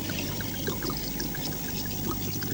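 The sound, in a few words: red wine pouring into pot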